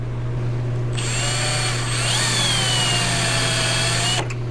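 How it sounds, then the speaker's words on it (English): A power drill with a spot weld bit whines steadily through steel spot welds on a 1962 Chevy C10 pickup for about three seconds, its pitch shifting slightly as the bit bites, over a constant low electrical hum. "I'm just going to try to drill spot welds part of the way"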